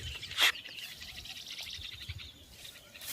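Faint bird chirps carry over a quiet farm in the Buldhana area, with one brighter call early on and soft scattered tweets against low background noise.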